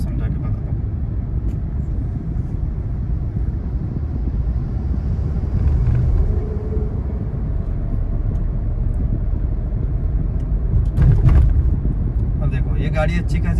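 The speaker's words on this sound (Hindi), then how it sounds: "ये गाड़ी अच्छी खासी स्पीड में चल रही है," A car drives along a road at moderate speed, giving a steady low engine and road rumble with wind buffeting the microphone, while someone talks over it throughout.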